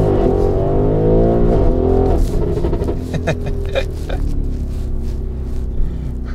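An MTM-tuned Audi RSQ8 SUV with 1001 PS launches at full throttle, heard from inside the cabin: the engine note climbs steeply, shifts gear and keeps roaring hard and close.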